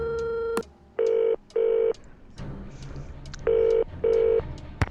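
Telephone keypad tones beep in the Nancy Drew game Curse of Blackmoor Manor, a dial tone cut off by a quick click, then four clear electronic beeps in two pairs with soft clicks between.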